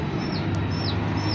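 A chick at the Los Herreros poultry farm gives three soft, rising peeps over a loud, steady hum of machinery or fans.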